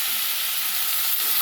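Washed mutton pieces fry with ginger garlic paste and turmeric in a pot, giving a dense, even sizzle heard up close for a brief moment.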